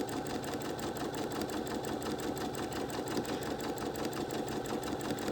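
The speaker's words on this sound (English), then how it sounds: "This sewing machine has a slow speed, a medium speed, and a high speed. And right now it's on medium speed" A sewing machine runs steadily at its medium speed while stitching a seam. The needle gives a fast, even mechanical chatter that stays close and continuous throughout.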